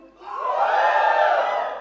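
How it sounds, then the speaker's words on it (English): A large crowd at the Poco X2 smartphone launch in India lets out a loud, unbroken cheer. It rises quickly and holds steady with shouting voices, mid-distance and filling the space. "Okay, that's a loud cheer."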